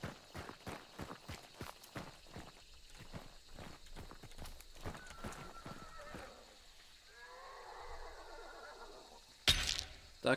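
In the video game Hunt: Showdown, a horse whinnies in a long, rising neigh after a run of faint hoof-like clops and sharp clicks, ending with a loud crash.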